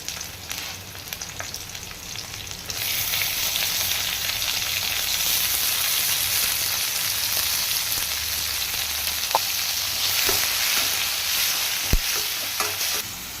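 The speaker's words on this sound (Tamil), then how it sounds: "பச்சை மிளகா, கருவேப்பிலை, அப்புறம் தக்காளி எல்லாத்தையும் சேர்த்து நல்லா வதக்கிக்கலாம்" Chopped onion, green chilies, curry leaves and tomato sautéing in a hot pan for vada curry, a bright continuous sizzle that swells loudly after a quieter start, with a few sharp spoon clicks near the end and no talking.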